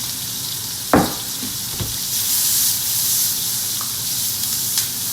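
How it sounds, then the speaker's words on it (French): Cider splashes into a pan of lightly caramelized shallots and sets off a loud, steady sizzle that starts with a sharp hiss and keeps frying close by. "Maintenant, dans les échalotes, je mets du cidre."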